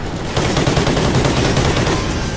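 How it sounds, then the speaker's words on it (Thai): Sustained automatic gunfire aimed at a helicopter in Call of Duty: Ghosts, a loud, dense and continuous burst of rapid shots that starts after a brief quieter moment and keeps firing to the end. "โอ้ยมึงเอาปืนนี้ยิงฮอเนี่ยนะ"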